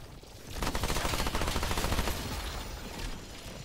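Rapid automatic gunfire from summoned allies in Remnant 2, a loud continuous burst of shots lasting several seconds that eases off slightly toward the end, with no talking over it.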